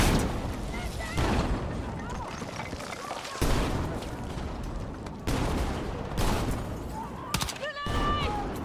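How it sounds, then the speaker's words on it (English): Sustained LMG fire while strafing in Battlefield 6, dense rapid bursts and booming shots layered with explosions and clattering battle noise, loud and continuous, with a voice talking over the gameplay. "he's trying to, like, strafe and shoot with an LMG"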